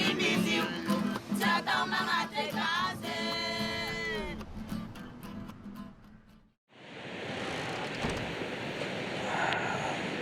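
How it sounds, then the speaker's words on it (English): Ocean surf rolling onto a beach in Madagascar, a steady broad wash of breaking waves that fills the second half after a brief hush, preceded by busier mixed sound with some voices. "waves lull you to sleep"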